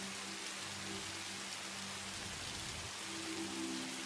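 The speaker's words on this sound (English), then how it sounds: "for the first time in years, we have got rain in Satisfactory" Steady rainfall in the game Satisfactory after Update 1.2, a dense continuous hiss of drops on surfaces with a faint low hum of machinery beneath, constant and even throughout.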